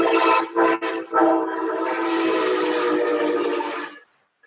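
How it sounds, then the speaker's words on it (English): A train horn sounds loudly in a few short blasts, then holds one long sustained tone for several seconds before cutting off. "Wait a minute, there's a train."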